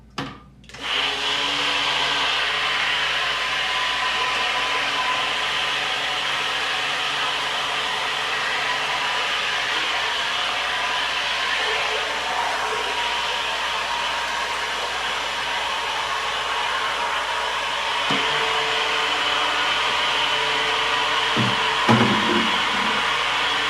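Soap-making oils whirring in a blender or stick mixer, a steady loud motor hum running almost unbroken throughout, with a brief shift in pitch near the end.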